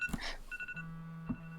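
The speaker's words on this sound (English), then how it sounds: "Whose phone is ringing? That's my alarm." A phone alarm sounds in short repeating electronic beeps and a steady tone, fairly quiet and mixed with low room noise.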